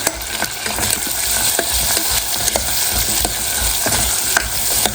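Salt and red chili powder being stirred into simmering sambar with carrots and potatoes, a steady close sizzle broken by repeated scraping clicks of a spoon against the pot, with no talking.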